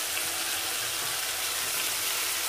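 Tomatoes and greens stems fry in a pan for a Tamil-style kuzhambu, giving a steady, even sizzle throughout at moderate volume, with a faint clink near the end and no talking.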